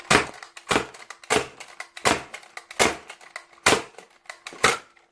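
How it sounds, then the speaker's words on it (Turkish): Nerf toy blaster firing in automatic mode, a run of seven sharp mechanical bursts spaced about two thirds of a second apart, each a quick clattering snap with a short whir, close and fairly loud with no talk. "Şimdi arkadaşlar otomatik atış edeceğim."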